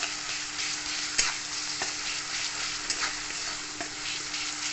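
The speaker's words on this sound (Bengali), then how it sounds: "হলুদ, লঙ্কা গুঁড়ো, আর দেবো এখানে গরম মশলা। আবার ভালো করে ভেজে নেবো।" Turmeric, chili powder and garam masala fry in a pan for paneer bhurji, giving a steady close sizzle with scattered stirring scrapes and clicks throughout, no voices.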